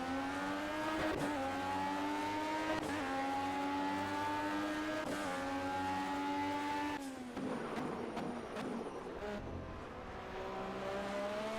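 An LMP1 prototype race car engine in the Project CARS racing game on Xbox One, a loud, high revving whine climbing through gears with sharp shift breaks, then a rougher patch of braking and tire noise before it accelerates again.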